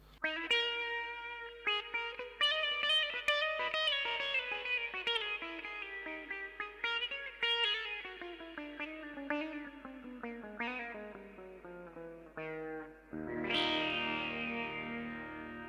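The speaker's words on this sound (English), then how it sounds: "I think I actually have a sitar sound on this." A keyboard plays a twangy, sitar-like riff with bright plucked notes and bending lines, washed in effects and echo, ending on a sustained buzzy chord.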